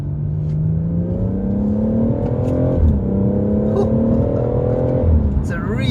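A BMW M140i with automatic gearbox drops down a gear approaching a bend, the engine note sliding and then jumping in pitch with each shift, heard from inside the car under continuous talking.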